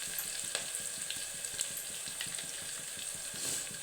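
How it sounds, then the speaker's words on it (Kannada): Onions frying in a pan for a spicy vegetable pulao, a steady close sizzle with occasional stirring scrapes throughout. "ಈರುಳ್ಳಿ ಹಾಕಿ ಚೆನ್ನಾಗಿ ಫ್ರೈ ಆಗಬೇಕು ಈರುಳ್ಳಿ."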